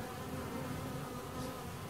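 Honey bees hum and buzz densely and steadily around an open hive during a warm-day health inspection, a close continuous drone with no voices.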